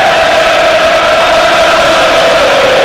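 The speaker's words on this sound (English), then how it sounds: "Home crowd find their voice again." Home crowd at a Brighton vs Nottingham Forest FA Cup football match cheering and chanting in a loud, continuous roar that fills the stadium without letting up.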